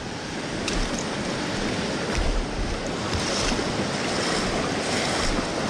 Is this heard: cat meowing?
no